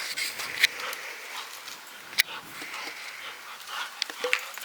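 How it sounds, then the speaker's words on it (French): A dog pants close by indoors at home, with quick rhythmic breaths and a few sharp clicks or tiny yips scattered through, and no talking. "Le chien, il est fou le chien."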